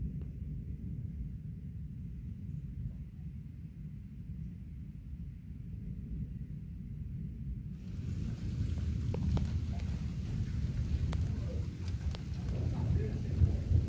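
Thunderstorm with rain in the UK in July, steady rain hiss over a low rolling rumble of thunder that swells in the second half, with small crackling drips.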